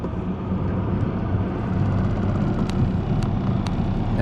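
A boat's bow-mount trolling motor is throttled up against the current, a steady low rumble and hum with faint clicks and knocks from the hull, continuous and moderately close.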